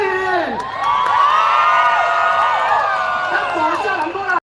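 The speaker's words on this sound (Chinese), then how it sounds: "掌声欢迎！" A crowd at a concert stage event in Malaysia cheers, whoops and shouts loudly and continuously, welcoming a film director onstage, with high excited voices and children's shouts layered over the roar.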